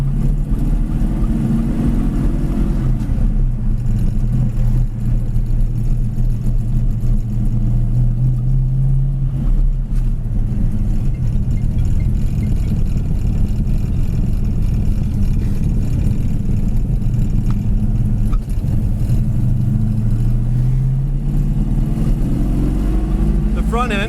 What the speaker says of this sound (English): Transmission sounded really good going down into second there.